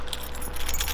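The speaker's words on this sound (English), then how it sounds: "I got my keys!" A bunch of keys jangles close by outdoors on a cold day, a bright, continuous metallic rattling lasting about a second with no talk over it.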